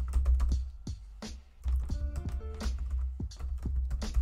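Rapid typing of a Linux command on a computer keyboard, a close, steady run of crisp key clicks with a brief pause near the middle, then more bursts of keystrokes.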